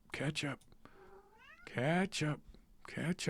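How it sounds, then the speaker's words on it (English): A house cat gives several close, drawn-out meows in a row, some of them rising in pitch, with quiet indoor background between the calls. "there goes my cat right in front of everything"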